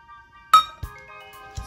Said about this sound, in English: Stir that up some.